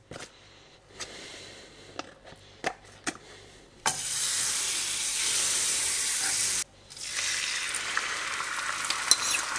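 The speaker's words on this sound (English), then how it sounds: "And now let's add another piece of butter and do the other egg." An egg fries in butter in a pan: a few soft taps and clicks, then a loud bright sizzle bursts up, cuts off briefly, and resumes strongly.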